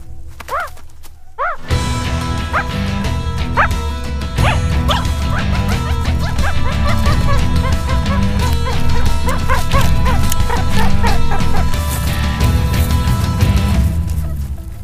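Wild pups beg with high, squeaky yips and chirps, heard clearly at first and then repeating under loud, dense music that fills the rest of the clip.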